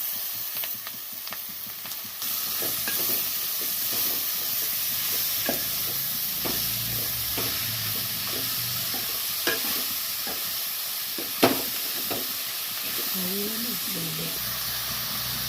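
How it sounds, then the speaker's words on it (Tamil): Onions sautéing in a pan as the base for a cuttlefish curry, a steady close sizzle and hiss with occasional scraping stirs and clinks, and faint voices in the background. "நல்லா வதக்கிட்டு இருக்கோம். கிட்டத்தட்ட வெங்காயம் வதங்கிடுச்சு."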